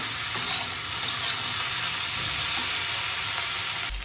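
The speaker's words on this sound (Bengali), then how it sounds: "এবার এটাকে আমি ভালো করে ভাজা ভাজা করব।" Boirali fish fries over a high gas flame, giving a loud, dense, unbroken sizzle of hot oil that stays steady close up for the whole stretch, with only faint spatters and no voices.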